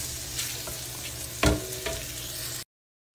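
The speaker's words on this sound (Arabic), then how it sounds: "في قدر كبير حضيف البيكن. أنا أحتاج الشحم حق البيكن." Bacon sizzles in fat in a large pot, a steady close crackling hiss with a few louder spatters and stirring clatters before cutting off abruptly.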